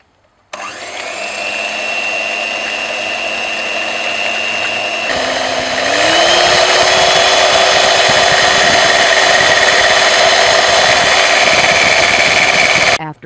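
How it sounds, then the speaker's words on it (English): An electric whisk beats sugar and eggs in a bowl, its motor whirring loud and steady, then stepping up to a higher, harder speed partway through and running on without pause. "Now we need to beat this mixture together using the strong, good quality electric whisk."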